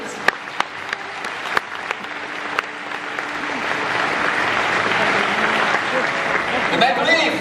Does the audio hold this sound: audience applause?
yes